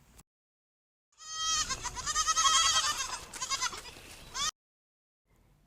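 A single sheep bleat, loud and wavering, rings out alone for about three seconds and then cuts off abruptly, framed by silence and no talk.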